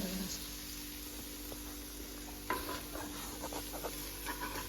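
A spoon stirring besan (gram flour) into a curd and capsicum curry in a pan, a continuous soft scraping swirl with a light sizzle underneath, plus a few small clinks from the pan.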